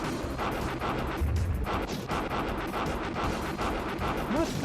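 Dense, continuous gunfire and booming blasts from a Philips CD-i video game, loud and sustained throughout with heavy explosions layered on top.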